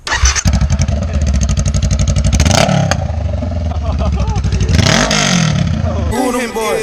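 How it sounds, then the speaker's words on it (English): Motorcycle with its exhaust removed starting and revving at a bike meet: a loud, raw, rapid-firing engine clatter with repeated throttle blips rising and falling, close by, with people talking over it. "Took Justin's exhaust off."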